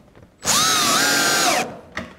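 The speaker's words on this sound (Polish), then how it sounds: "tak samo dociskamy je do ścianki małego rąbka i przykręcamy wkręty" A power drill drives screws into a sheet-metal roofing clip pressed against a standing-seam panel edge, giving one loud, steady whirring burst of about a second that ends abruptly, followed by a faint short clatter.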